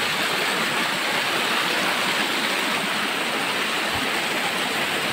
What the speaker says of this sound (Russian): По горной реке.